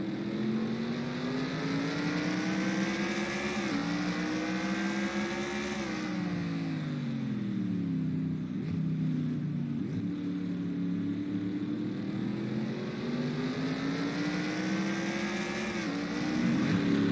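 Stock race car engines in a racing video game drone at high revs, several cars roaring together in a sustained, loud pack with pitch rising and falling through gear changes and passes.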